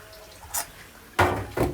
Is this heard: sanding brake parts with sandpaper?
no